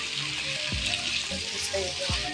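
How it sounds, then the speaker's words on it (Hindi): Restaurant-style Lahori chicken karahi fries in a wok with a constant close sizzle, while a spoon stirs and scrapes the pan in a few distinct strokes. "थोड़ा थोड़ा इसे हलाते रहें ताकि ये नीचे ना लगे"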